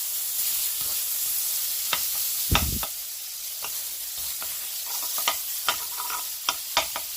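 A heaped tablespoon of unsalted butter melting in a pan, a soft continuous sizzle with occasional sharp scrapes and taps of a utensil, one louder clunk early on, no talking.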